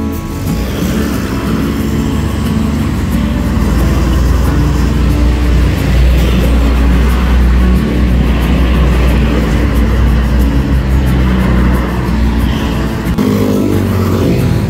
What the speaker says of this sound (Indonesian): Dewi Sri Kamandanu diberangkatkan dari RM Aroma Cirebon